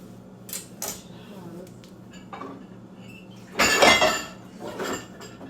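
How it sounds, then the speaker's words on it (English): A kitchen knife, not a proper chopping knife, cuts through chocolate on a board in a few sharp, scattered strikes, with one louder cluster of crunchy chops near the end. "chop up this chocolate. This is not a chopping knife, to be honest."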